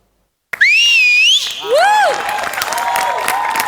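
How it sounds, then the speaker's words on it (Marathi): Loud sliding whistles from an audience at a village comedy show, one long wavering whistle and then a rising and falling one, which give way to crowd noise. "ही शिट्टी तुमच्यासाठी अरुणदा."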